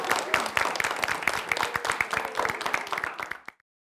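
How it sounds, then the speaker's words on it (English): Audience at a comedy spotlight show clapping for a performer, a few seconds of close, crisp handclaps from a small crowd that taper off and stop abruptly. "Can we give her another round of applause?"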